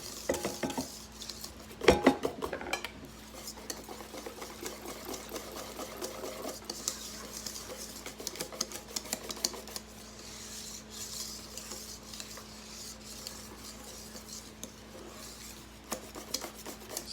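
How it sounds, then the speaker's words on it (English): Cool Whip frosting for a lemon icebox cake being stirred in a bowl, a faint, steady scraping and rubbing with small clinks of the utensil and a low mechanical hum underneath. "Get it stirred up."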